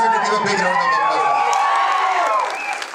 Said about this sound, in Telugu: and I want all of you to give a big round of applause